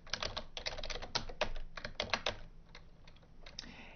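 Rapid bursts of typing on a computer keyboard at a Linux shell, clicking keys in quick irregular runs that thin out toward the end, close and alone with no talk.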